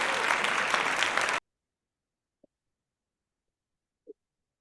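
An audience at a London tech meetup applauds a speaker after her talk, with a loud burst of clapping that cuts off abruptly, followed by near silence and two faint small sounds.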